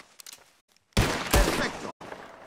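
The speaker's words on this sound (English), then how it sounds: "Whoever shoots one of these bottles wins. Just draw your gun and aim when you're ready" Gunfire in the Red Dead Redemption 2 video game during a bottle-shooting contest: a few faint pops, then two loud sharp bursts of shots close together ringing briefly before a short quieter tail.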